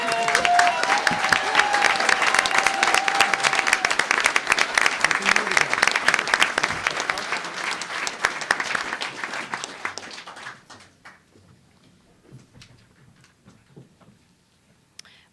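An audience applauds at a town council inaugural meeting, dense steady clapping for about ten seconds that then fades out into near quiet.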